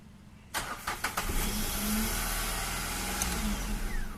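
A car starter cranks with a few quick bursts, then the engine catches and settles into a steady, loud idle, on a car with a brake booster air leak.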